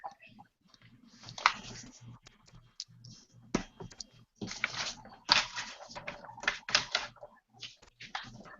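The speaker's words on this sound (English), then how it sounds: "I can hear him shuffling his papers and stuff." Papers being shuffled and handled at a desk, heard over a call line as a string of soft irregular rustles and clicks of varying loudness, with no talk.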